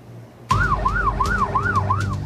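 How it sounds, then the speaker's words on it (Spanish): Ambulance sirens wail out as dozens of ambulances leave Sabana Grande parish, a loud rising-and-falling siren starting abruptly and cycling steadily over a low rumble of traffic. "decenas de ambulancias salieron desde la parroquia Sabana Grande"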